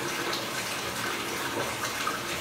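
Water from a tap runs steadily into a bathtub being filled for a puppy's bath, a continuous gushing splash that stays close and even throughout.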